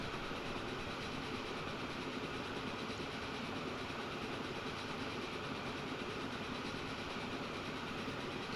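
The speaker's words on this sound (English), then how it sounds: "we had a passenger train going by and uh, freight going the other way." Trains in the railway simulation game Transport Fever 2 pass by as a steady, continuous rumble with faint rhythmic clatter, holding at an even level throughout with no talk.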